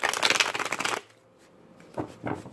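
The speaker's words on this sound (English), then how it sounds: "Do one more shuffle." Tarot cards riffle in a quick shuffle for about a second, then a brief pause before two more short bursts of shuffling, close and crisp.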